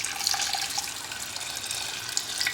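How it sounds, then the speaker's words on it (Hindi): Mutton stock (yakhni) poured onto raw rice for biryani, a steady splashing, gushing stream of liquid that runs close and continuous throughout, with no talking. "अब इसे पकाने के लिए ये जो हमारा यखनी है या जो मटन का स्टॉक है इसका प्रयोग करेंगे हम। इसे डाल देंगे"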